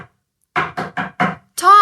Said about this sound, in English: Margaret knocks at Tom's door.